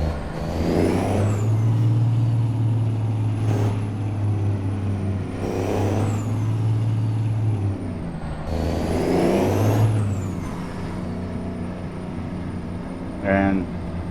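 A Caterpillar-engined truck in a video game drones steadily with a deep engine hum, punctuated by bursts of air hiss and a brief rattle near the end, while someone talks over it.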